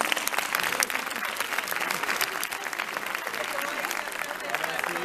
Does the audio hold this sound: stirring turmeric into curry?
no